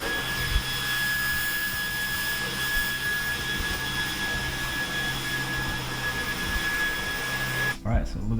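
A Dyson Cyclone V10 Animal cordless stick vacuum runs steadily at close range, a loud, even whoosh with a thin high whine on top, holding without a break until the motor cuts off abruptly near the end.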